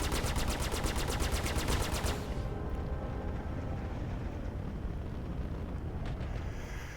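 A weapon firing in the Star Citizen video game, a rapid, evenly pulsing burst of shots over a thick roaring engine drone that continues alone after the firing stops.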